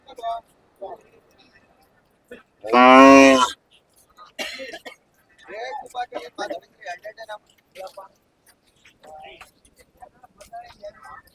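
A single loud, drawn-out low from Hallikar cattle at a busy cattle market, lasting about a second and standing out clearly amid scattered nearby chatter and bargaining voices.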